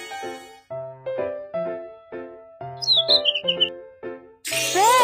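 Cartoon bird chirps from the Baby Panda's School Bus children's game, a quick run of high tweets over bright, repeating game music and chimes, clear and fairly loud.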